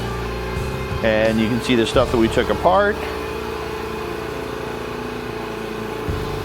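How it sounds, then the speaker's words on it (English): An air compressor runs in a workshop, pre-oiling tappets during a 2022 Harley-Davidson Low Rider S engine rebuild to a 131 big-bore setup; its steady mechanical hum drones throughout while someone talks briefly over it. "You hear the air compressor going there because we are getting the tappets ready"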